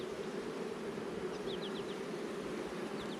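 Bees from an open hive hum in a thick, constant drone close by, loud and unbroken. A few faint chirps sound in the background, and no one speaks.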